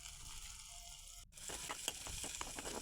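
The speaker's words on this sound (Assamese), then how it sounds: "এতিয়া গাজৰ আৰু মটৰখিনি দি ভাজি ল'ম" Carrots and peas frying in oil with onion and a pinch of turmeric, a steady close sizzle that briefly cuts out and then returns with light stirring clicks.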